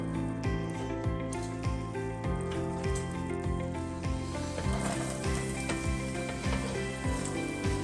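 Carrots frying in hot vegetable oil in a pan, a steady loud sizzle with regular crackling pops and bursts throughout, close up.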